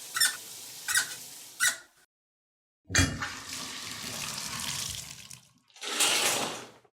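Water runs in a bathroom shower in bursts, with three short squeaks of a tap handle at the start, a pause of silence, then a long steady rush of spray and a final broad hiss.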